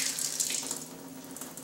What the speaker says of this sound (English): I've got water coming from the system.